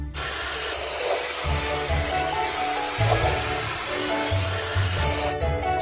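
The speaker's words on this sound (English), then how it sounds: "Let's drag the spray gun to paint the chain and anchor." A spray gun hisses in a long, loud, continuous burst as it paints a ship's chain and anchor in a children's cartoon construction game, with light music underneath, ending abruptly.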